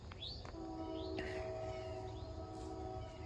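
A train rumbles past in the distance with a steady low drone and sustained tonal whine, while birds chirp faintly overhead.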